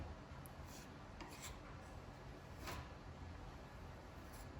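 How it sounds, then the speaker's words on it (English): Wood filler is spread thinly across wood grain with a steady, soft scraping rub, faint and close, with a few brief lighter swipes. "we're just gonna float some wood filler on it like you would drywall"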